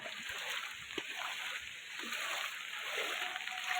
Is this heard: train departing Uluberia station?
no